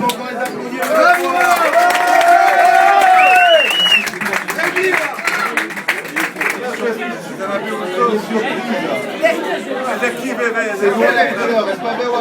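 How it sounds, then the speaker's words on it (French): A crowd at a reggae party cheers and applauds loudly, a dense wash of clapping and voices that thins into lively chatter and scattered claps, with people talking throughout. "Alors, on va encore les applaudir. Bravo!"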